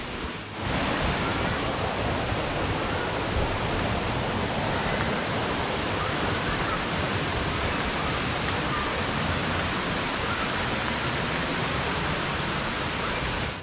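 A steady, powerful roar of heavy falling water from a waterfall in Queensland, Australia fills the scene, broadband and unbroken from start to finish, with no other sounds rising above it.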